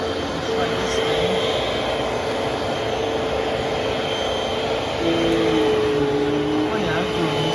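A Eureka vacuum cleaner running indoors, a steady loud motor whine and airflow hum that holds constant throughout, with a slight change in tone partway through.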